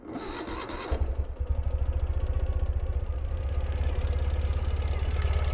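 A 2014 Ural Retro motorcycle engine cranks briefly, then fires and settles into a loud, steady, rhythmic idle close by, with no talking.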